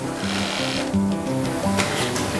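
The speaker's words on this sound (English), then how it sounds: "There are lots of sewing machines in this factory, and each one is set up to do a different job." An industrial sewing machine in a shoe factory stitches the folded edges of ballet shoe pieces, a steady mechanical whirring with bursts of rhythmic clatter, close and continuous against a busy background.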